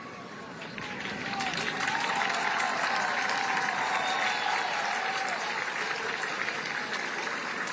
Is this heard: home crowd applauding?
yes